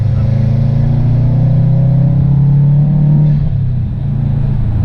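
A 2013 Subaru WRX hatchback with a five-speed manual gearbox runs close by. Its engine holds a loud, steady droning note that eases slightly near the end.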